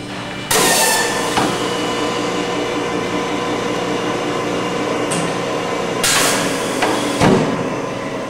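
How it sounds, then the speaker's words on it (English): A 1973 Nichols Duplex twin production mill with two 3-horsepower motors runs a quick machining cycle, a steady mechanical drone broken by sharp clanks as the spindle starts and the table feeds and retracts, with no talk. "Start, spindle start. Ramp it in, table feed, table retracts, spindle stops."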